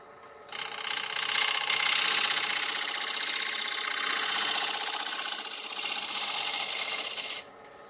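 Light finishing cut on a fruit wood bowl spinning on a wood lathe, a steady broadband rasping hiss of the tool shaving the wood that starts abruptly, swells and eases slightly, then stops, close and alone.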